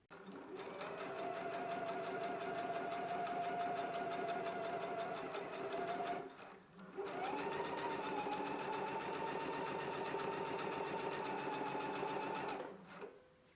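A sewing machine basts a row of stitches along the inner edge of a dress facing, running steadily for about six seconds, pausing briefly, then running again at an even pace, loud and close with no talking.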